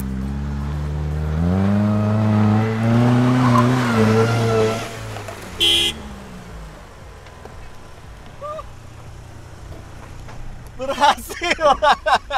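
A Mitsubishi Eterna car towing another vehicle in reverse, its engine straining in a rising rev that grinds into tire skidding, followed by quieter scuffs and a cluster of voices reacting at the end.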